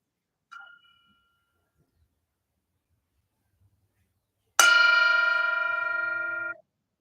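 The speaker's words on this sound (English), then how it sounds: "I will invite the bell to sound" A meditation bell is struck once, giving a clear, loud ring that decays slowly for about two seconds in an otherwise quiet room, preceded by a faint, brief metallic tap.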